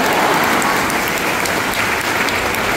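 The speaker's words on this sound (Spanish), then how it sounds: "Fuerte el aplauso para él." A large crowd claps loudly and steadily at a religious procession, the Demanda Mayor de Santiago entry, producing a dense, continuous wash of applause without pause.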